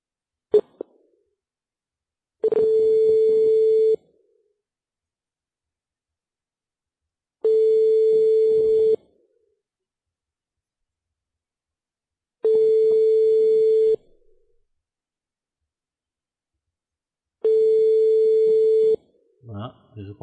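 A telephone rings out while a call is placed again after a hang-up, with a steady tone repeating in four evenly spaced long bursts separated by silence, a click at the start and brief voice-like sounds at the end.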